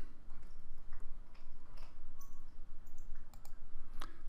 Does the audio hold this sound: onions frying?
no